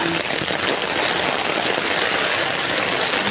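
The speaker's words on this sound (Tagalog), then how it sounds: "As you can see, malakas pa rin pong ulan." Heavy rain pours down in a loud, unbroken hiss, dense and steady throughout.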